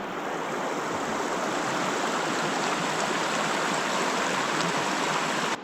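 A river stream flowing in a November forest, a steady broadband rush of water, close and continuous with no voices.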